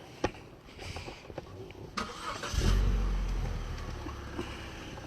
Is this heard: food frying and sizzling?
no